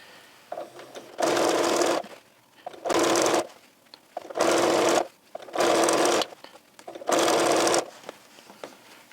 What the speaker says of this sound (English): I'm going to keep sewing for a little bit and get to that next corner